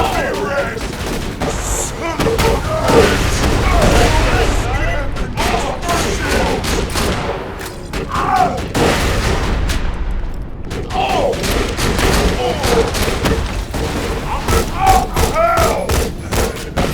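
Rapid bursts of turret gunfire in a shooter video game, loud dense volleys with thumps and explosions running continuously, with game effects layered over the shots.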